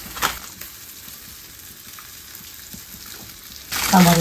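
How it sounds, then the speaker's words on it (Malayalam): Sambar powder sizzles in a hot pan on low heat and is stirred, giving a steady, quiet frying hiss with a few clicks and scrapes, before a voice comes in near the end. "സിമ്മിലിട്ടൊന്ന് ഇളക്കി ഒന്ന് ചൂടാക്കി എടുത്താൽ മതിയേ"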